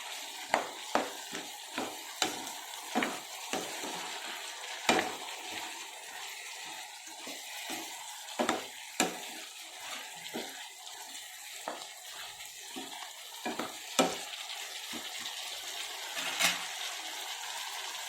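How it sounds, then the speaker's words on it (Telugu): Ginger garlic paste fries for vegetable pulao, a soft sizzle broken by repeated sharp scrapes and knocks of a spoon stirring the pan at an uneven rhythm, close and without talking. "ఒక స్పూన్ అల్లం వెల్లుల్లి పేస్ట్ వేద్దాము. ఇది కూడా బాగా ఫ్రై అవ్వాలి."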